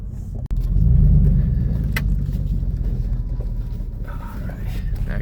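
A two-wheel-drive vehicle with an open differential drives an off-road desert trail near Pahrump, Nevada. Its engine gives a steady, loud, close rumble that holds throughout after a brief opening knock.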